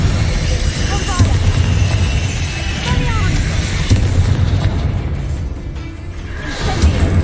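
Booming spell explosions from the Hogwarts Legacy video game, including the Bombarda curse, thud and rumble over a continuous loud combat bed while a player calls out spell names across the action.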